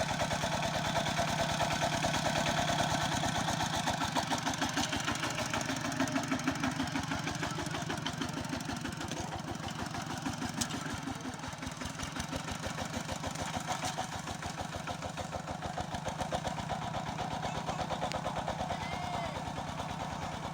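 A tractor engine runs steadily while ridging a field for planting beans, a continuous mid-pitched rumble with a low throb that stays loud and even throughout, with no talk.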